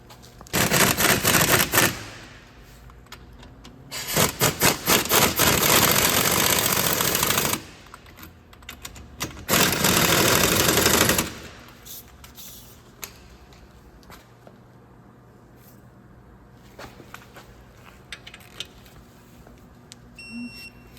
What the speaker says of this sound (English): Now we can get our pins and push those in. And we can tighten those down.